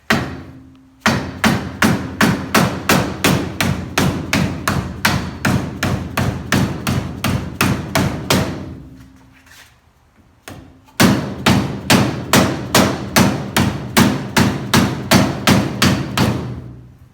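Loud, steady metal hammering on a snorkel pre-cleaner, rapid evenly spaced ringing blows in two long runs separated by a short pause, close and alone with no talk.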